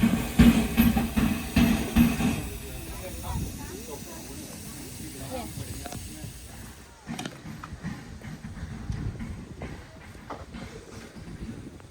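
A steam train at a steam railway hisses steam in a loud, continuous rushing wash. It is strongest at the start, then settles into a lower sustained hiss, with faint background activity.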